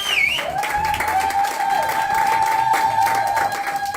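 A church congregation applauds and cheers loudly and steadily throughout, a dense crowd sound under a sustained tone that could be an organ or keyboard.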